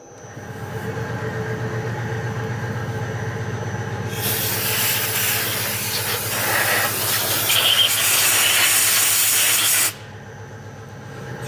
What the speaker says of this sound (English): So I got to get my compressed air over here.